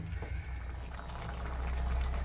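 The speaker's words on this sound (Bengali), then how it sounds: "তরকারিটা আমার ফুটছে বন্ধুরা" Egg tadka dal bubbles at a steady, gentle boil in a pan on a gas stove, a soft, continuous simmer with no talking.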